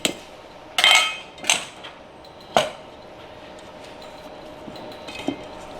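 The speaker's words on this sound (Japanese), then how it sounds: "こうやって中央からぐるっと混ぜるようにボウルを回しながら、こうするときれいに混ざります" A whisk beating eggs in a bowl for a soufflé omelette, with the bowl turned as it mixes, gives a few sharp metallic clinks early on, then fades into quieter, scattered tapping and scraping close by.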